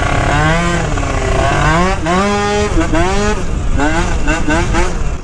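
A Malaguti Phantom F12 race scooter revving hard nearby: a loud, buzzing two-stroke engine whose pitch climbs repeatedly through rising sweeps, dropping and building again, with brief speech mixed in.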